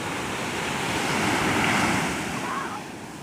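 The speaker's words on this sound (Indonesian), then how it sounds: "Dikejar ombak." Ocean surf washes onto an empty beach at Banthon Beach in Narathiwat, Thailand, a steady broadband roar of breaking waves that swells slightly midway, with some wind noise on the microphone.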